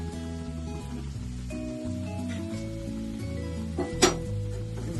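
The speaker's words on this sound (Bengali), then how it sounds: "মশলা থেকে যতক্ষণ তেল না বেরোচ্ছে ততক্ষণ কষাবো" Spice masala frying in oil in a pan for a homestyle paneer, capsicum and pea curry, a soft steady sizzle under faint background music with a sharp clink of a utensil near the end.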